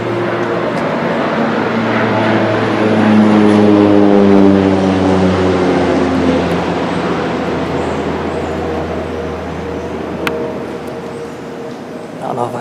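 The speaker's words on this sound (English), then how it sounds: "that dang plane has flown by here about 3 times that low, like, I don't know, 100 feet above the tree line" A low-flying propeller airplane passes roughly 100 feet above a tree line during a deer hunt, its engine drone swelling loud and then slowly fading away, with someone talking quietly over it.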